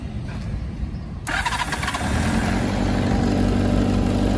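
A Honda CBX 400 motorcycle engine with a silenced exhaust cranks and catches, then settles into a steady, close idle that fills the rest of the clip.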